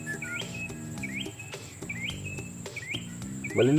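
A bird sings repeated short chirping phrases at a steady pace over a soft background with faint low rhythmic tones.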